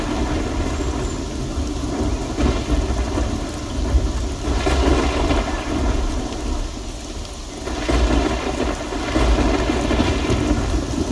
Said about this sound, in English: Not a huge fan of the rain,